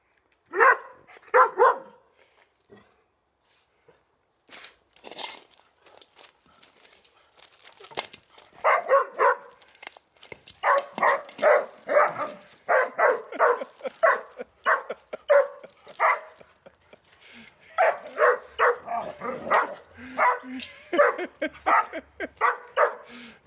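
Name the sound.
dogs barking and whimpering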